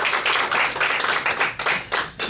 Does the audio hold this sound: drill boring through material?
no